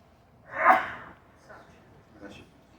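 One sharp sneeze bursts out, loud and close, in a quiet meeting room, followed by two faint breathy sounds.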